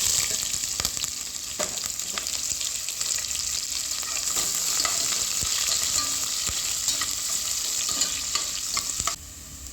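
Onions frying in hot oil with fenugreek seeds for a white cowpea kuzhambu, giving a steady close sizzle broken by repeated taps and scrapes of a spoon stirring the pan, with no voices.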